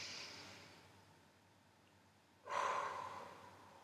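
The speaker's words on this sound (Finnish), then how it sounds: "Sisään nenän läpi ja ulos suun kautta." A single audible breath drawn in through the nose and let out through the mouth during a guided stretching session, beginning midway after near silence and carrying on as a soft, close, steady airy exhale.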